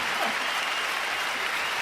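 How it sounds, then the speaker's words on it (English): Steady applause from a livestream audience fills the whole stretch, a dense even patter of clapping with no voices over it. "so a round of applause"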